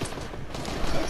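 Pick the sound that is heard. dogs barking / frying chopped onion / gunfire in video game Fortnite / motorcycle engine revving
gunfire in video game Fortnite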